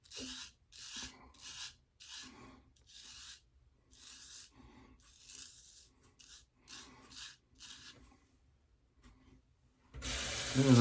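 A straight razor is honed on an Olympus hone in a series of soft, rhythmic rasping strokes, each about half a second long with short pauses between. A louder, harsher burst of scraping follows near the end.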